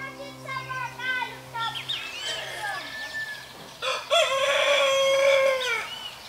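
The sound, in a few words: rooster crowing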